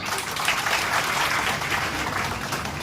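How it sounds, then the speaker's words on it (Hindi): An audience claps steadily after a speech by a Bahujan professor, a dense unbroken patter of many hands at an even level throughout, with no voices on top. "ताली कम पड़ रही है"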